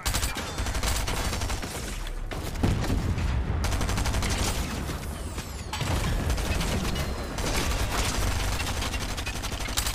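A tank in a video game roars with a heavy, loud low-end rumble under a continuous rapid mechanical rattle like sustained gunfire, with brief dips between bursts.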